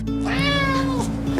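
A stray cat in a feature film gives one long, loud, drawn-out meow that rises and then falls. It is heard close and alone over a low steady background hum.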